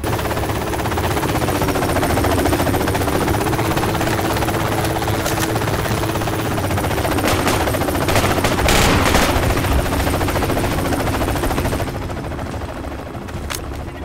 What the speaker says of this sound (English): Just hanging around waiting for the helo to take off.